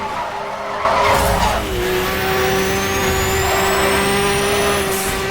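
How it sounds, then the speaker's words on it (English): Car engine under nitro boost in Need for Speed Hot Pursuit gameplay: a loud, sustained high-pitched engine whine with rising tones and tire squeal, continuous throughout with no talk. "You like the sound of the Nitro better?"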